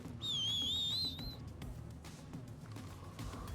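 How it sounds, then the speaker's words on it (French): In the video game Red Dead Online, a single high, wavering whistle calling a wagon rings out for about a second over a low background rumble, then fades away. "Est-ce que le chariot il vient si je le siffle ou pas?"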